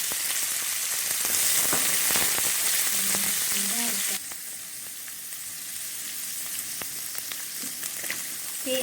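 Chopped onion and crispy garlic fry in a pan for village-style nasi goreng egg fried rice, a steady close sizzle that drops in level partway through as the onion goes in. Nobody speaks.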